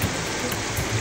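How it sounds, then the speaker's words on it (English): Heavy rain in the Philippine rainy season pours in a dense, continuous patter, loud and close with no voices. "So it's raining from more than 14 hours because it starts the"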